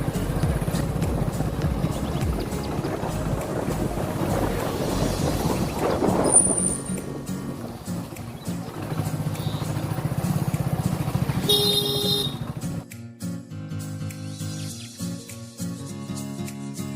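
A motorcycle rides along a road near Haspura with a steady, droning engine and road noise, a horn honking partway through, before the sound drops to a quieter, thinner rumble near the end.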